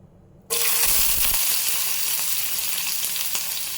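Sliced onions hit a hot pan with turmeric for a prawn fry and burst into a loud, steady sizzle that keeps going, close by, with a bit of stirring and no talking.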